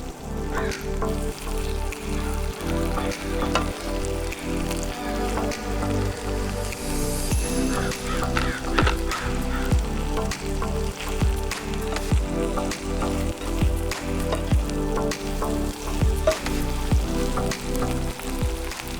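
Chorizo fries in a pan, crackling and spitting steadily for a long stretch with a dense rain-like sizzle, close and constant, with no talk.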